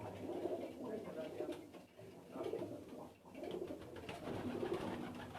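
Several old white pigeons, kept as a hobby flock on a rooftop, coo in soft, throaty bursts close by, repeating in overlapping waves with faint background murmur.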